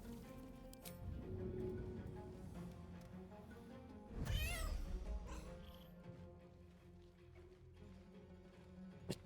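A small cat in the video game Baldur's Gate 3 gives a brief, wavering meow midway through, heard over a busy, low game background ambience.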